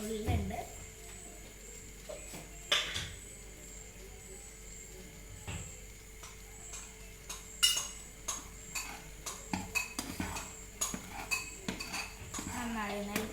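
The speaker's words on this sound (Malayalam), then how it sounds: "നന്നായി ഒന്ന് ഇളക്കണം" A spoon scrapes and clinks against a pan while stirring a boiling Mysore pak mixture with a pinch of baking soda added. The taps are quiet and irregular, growing quicker and steadier in the second half.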